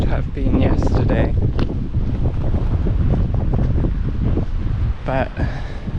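Steady gusty wind buffeting the microphone with a roaring rumble on a night walk from Wadebridge to Newquay, while a person talks over it throughout.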